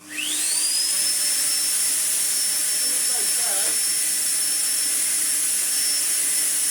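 A Sebo Airbelt K Pet vacuum cleaner with a replacement motor starts up and spools to a loud, steady high-pitched whine that holds unbroken, with a brief faint rattle partway through.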